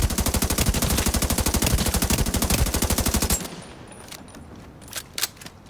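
Rapid automatic gunfire from The Division's Dark Zone, a long sustained burst of evenly spaced shots for about three seconds, then stopping abruptly and leaving a few sparse, quieter pops and clicks.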